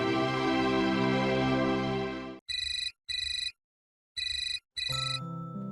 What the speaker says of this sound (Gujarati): અરે ભાઈ સાહેબ, આ મીરાનો ફોન